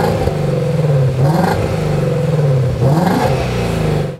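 A Ford Mustang GT350 exhaust with the valves open revs loudly up close, its engine note rising and falling in two or three quick blips over a throbbing idle, then cutting off abruptly.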